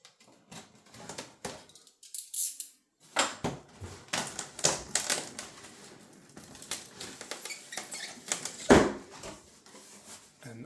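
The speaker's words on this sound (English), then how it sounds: "Let's undo this plastic over here, just like so." Plastic wrapping is pulled off the top of a Lian Li O11 Dynamic Mini V2 Flow PC case in its cardboard box, quiet irregular crinkles, rustles and taps coming close up in scattered bursts.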